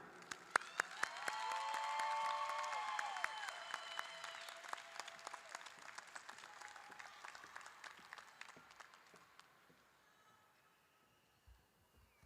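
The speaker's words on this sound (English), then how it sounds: "can we get a round of applause for our school principal, Ms. Kelly Bess" Graduation audience at a high school ceremony applauding the principal and superintendent, a dense sustained wave of clapping with some cheering that swells early, then gradually thins and fades out toward the end.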